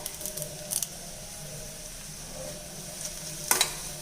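Steady sizzling of curry leaves and onion frying in hot oil, with a few brief crackling bursts and a sharp clatter near the end.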